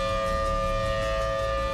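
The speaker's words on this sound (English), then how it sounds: "The sirens went off 20 minutes before the tornadoes touched down." A tornado warning siren wails as one steady, loud, unbroken tone, sustained and alone, with no voices.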